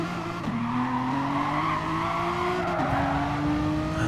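Two race cars in a video game touring-car race at Brands Hatch Indy, engines droning loudly and steadily as they brake hard into a corner, pitch dropping and rising with a brief tyre scrub, no talk.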